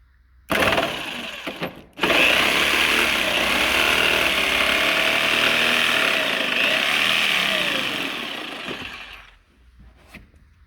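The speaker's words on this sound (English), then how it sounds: "we'll do our best to saw in a relatively straight line" A jigsaw cuts along a crack in a canoe hull, starting with a brief burst, pausing, then buzzing steadily and loud up close for about seven seconds before stopping, with faint clicks afterward.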